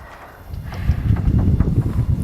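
Heavy hooves of a bison herd clomp and thud in an irregular rhythm on soft ground, growing louder as several bison move close by.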